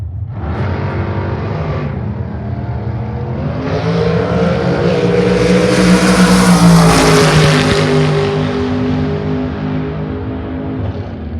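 Super Comp drag race cars, a 2002 Davis chassis and a 2002 Yancer, launching down the strip: loud, sustained engine roar rising in pitch and intensity as they accelerate, with no talk.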